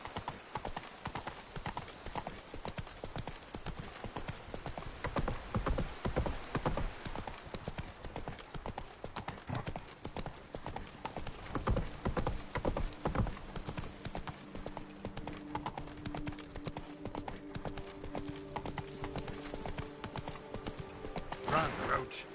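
A horse gallops in The Witcher 3: Blood and Wine, its hooves pounding in a fast, continuous clip-clop rhythm from start to finish, with a voice speaking briefly over the hoofbeats and a short whinny.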